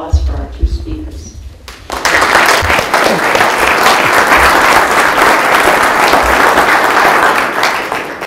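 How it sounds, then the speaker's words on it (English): After a quieter room murmur, an audience at a County of Sonoma alcohol policy panel breakfast breaks into loud, sustained applause welcoming two speakers, the clapping full and even until it thins slightly near the end. "please give us a warm welcome and applause for our two speakers"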